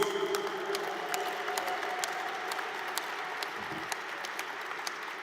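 At an awards night, an audience applauds the nominees with soft, steady clapping that sounds somewhat distant and continues evenly throughout.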